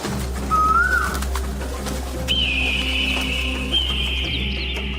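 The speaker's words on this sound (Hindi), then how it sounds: "दूसरे दिन सुबह में कोयल आकर कूकने लगती है।" A koel calls out in a village setting, two rising whistled notes over a steady low background hum, one short and one longer drawn-out.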